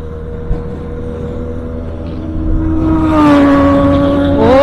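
Benelli TNT 300 motorcycle engine while riding, a steady loud drone that climbs in pitch as the rider accelerates, with rising wind rush in the final seconds.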